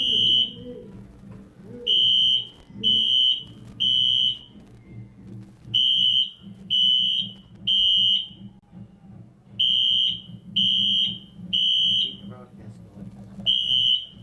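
Fire alarm beeping inside a high school gym during a football broadcast, sounding in loud repeated bursts of two or three tones with short gaps, a voice talking underneath throughout.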